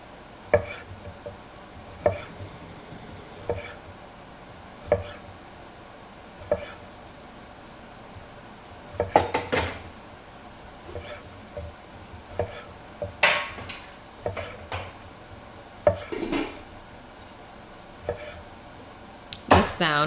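A knife cuts food in half on a cutting board in a home kitchen, making sharp, evenly spaced thunks at first, then quicker irregular chops.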